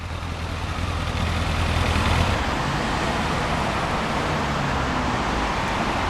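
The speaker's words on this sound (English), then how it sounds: "We get to see the Kawasaki for the first time on the road." Kawasaki ZX750R motorcycle riding past on a road, a loud broadband engine roar that swells near the middle and stays steady, close and continuous, with no talking.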